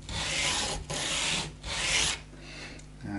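Close, rhythmic rasping strokes of sandpaper on the nut of a 1997 Gibson Les Paul guitar in wine red, three long passes with short pauses between them and no speech.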